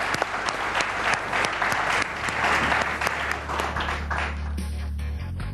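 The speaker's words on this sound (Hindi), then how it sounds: "तालियां होनी चाहिए" A studio audience on a live Pakistani cricket talk show claps steadily and briskly for several seconds, with a low electronic hum underneath.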